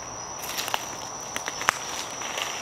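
Footsteps crunch lightly on the ground of a cemetery at night, a few scattered soft steps amid a steady high insect drone, faint and close with no talking.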